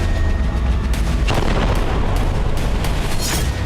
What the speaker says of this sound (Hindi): आसमान से इजराइल के एयरक्राफ्ट भीषण बमबारी कर रहे हैं।